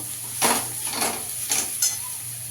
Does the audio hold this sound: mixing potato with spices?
yes